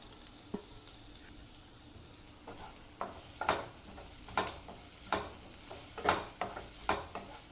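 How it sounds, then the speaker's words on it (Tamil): Steamed carrot is sautéed in a pan for egg paratha: a soft continuous sizzle broken by sharp, close scraping clicks of a spatula stirring against the pan, irregular and growing busier toward the end, no voices. "அதிலே நம்ம ஸ்டீம் பண்ணி வச்ச கேரட்டு போட்டு லைட்டாக வதக்கிக்கோங்க."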